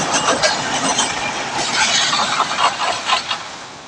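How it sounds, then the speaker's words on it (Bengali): A train passes along a railway line near Tongi, a loud rushing roar with rhythmic wheel clatter and hissing that swells and then fades slightly toward the end. "দেখতে পাচ্ছেন ট্রেন যাচ্ছে।"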